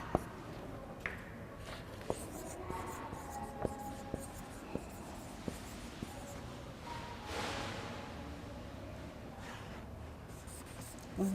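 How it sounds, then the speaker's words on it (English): Pencil or pen writing by hand on paper, quick scratchy strokes with scattered small taps, steady and close over a low room hum. "I'll write fast"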